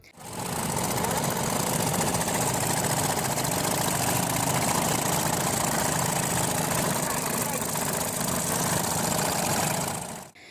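Around a hundred fishermen's engine boats race on the Godavari river, their motors merging into one loud, continuous buzzing drone that swells in, holds steady and cuts off abruptly.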